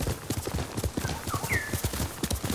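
A horse's hooves clip-clop in a fast, steady rhythm in the video game Ghost of Tsushima, close and clear, with brief whinny-like tones above the hoofbeats.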